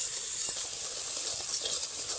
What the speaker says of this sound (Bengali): 1 মিনিট মতন জল না দিয়ে মশলাটাকে একটু নেড়ে নিচ্ছি